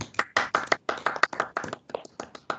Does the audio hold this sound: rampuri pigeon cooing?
no